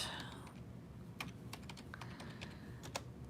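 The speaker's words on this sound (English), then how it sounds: "I'm just on Google, and I'm going to type in" Soft, quick keystrokes on a computer keyboard form an uneven run of clicks, close but quiet, over a low background hum.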